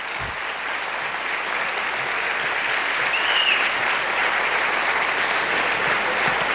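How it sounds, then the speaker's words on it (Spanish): A theatre audience applauds a choir director at a Christmas carol concert, a steady dense wash of many hands clapping together, loud and even throughout with no voices on top. "quería darle un aplauso a nuestro director"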